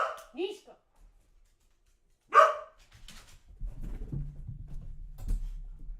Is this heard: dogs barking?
yes